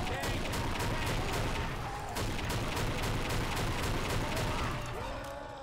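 Sniper rifle in a video game firing explosive rounds, a dense rapid string of loud cracks and booms repeating steadily throughout with little pause, sounding close and forceful.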